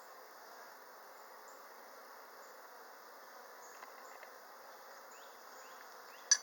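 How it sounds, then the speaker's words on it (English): Honey bees buzz around an open hive during an inspection, a soft, steady hum held at a constant low level throughout, with a brief click near the end and no talking. "Watch it, bees."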